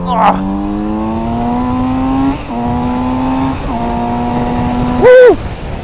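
Kawasaki Z900RS motorcycle engine revving up through the gears on a road, a loud close droning tone that climbs in pitch and drops twice at the shifts, then a short loud burst near the end.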